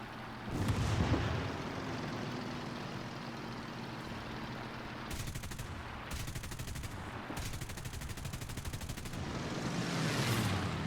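Aircraft guns fire in rapid rattling bursts during a War Thunder air battle, three long volleys over a constant engine drone and wind roar, with no talking.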